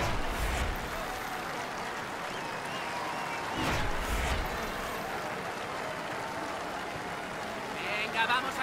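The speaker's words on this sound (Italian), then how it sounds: "accogliamo l'ingresso delle due squadre in campo con un bello applauso" Broad, steady stadium crowd applause and noise as two teams walk onto the pitch in FIFA 23 Volta with Real Madrid Legends, a Rome crowd filling the background at moderate level with a couple of brief swells.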